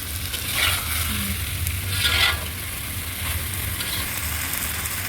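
Ginger and chili paste sautéing in oil in a pan for a vegetarian potato dum: a steady close sizzle with a couple of louder scraping stirs near the start, no voices.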